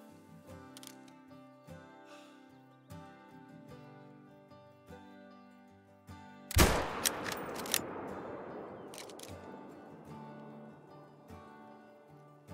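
A single loud .338 rifle shot at a whitetail deer in the hunting game Call of the Wild, a sharp crack followed by a long rolling echo that fades slowly over quiet outdoor ambience.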